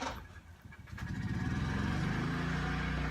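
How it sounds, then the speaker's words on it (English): A lawnmower engine starts up nearby in a quiet outdoor setting in Cornwall, UK, rising from a sputter into a steady droning hum that holds on, moderately faint, with no talk during the sound. "someone's lawnmower going off"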